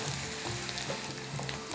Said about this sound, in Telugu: అందులోనే ఉల్లిపాయ ముక్కలు వేస్తాం. ఇప్పుడు వేయించు వాటిని